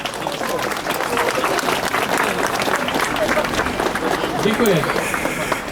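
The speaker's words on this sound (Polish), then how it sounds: "proszę was, dajcie mu oklaski, bo to jest naprawdę dużo roboty" A crowd claps and cheers for the organiser of a street march in Gdańsk, steady outdoor applause with a voice speaking over it.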